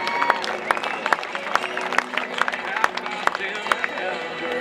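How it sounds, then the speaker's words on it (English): Rodeo crowd at an outdoor arena in McCracken, Kansas clapping for a rodeo princess, with scattered claps and cheers over an announcer's voice on a public-address system. "give that brave cowgirl a nice round of applause"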